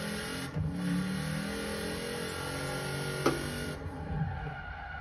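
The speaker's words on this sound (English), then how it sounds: "I'm gonna go fast down this road and just watch the braking" Toyota Hilux truck driving fast down a road, a steady engine drone that holds high throughout, with a brief sharp knock near the end as it brakes hard.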